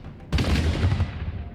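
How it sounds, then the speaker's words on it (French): A cannon blast depicting castle guns firing on a giant: one sudden loud boom after brief quiet, then a rumbling roar that slowly fades, with no voices. "Gargantua devient la cible des canons"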